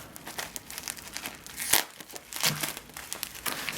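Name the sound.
opening a package, crinkling packaging during unboxing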